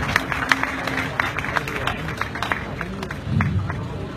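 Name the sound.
audience applause at a poetry recital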